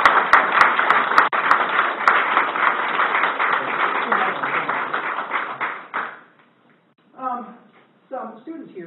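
An audience at a university skepticism lecture applauds loudly and steadily for about six seconds with sharp claps, then the applause stops and a voice speaks close by.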